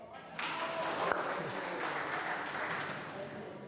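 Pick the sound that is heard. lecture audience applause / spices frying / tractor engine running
lecture audience applause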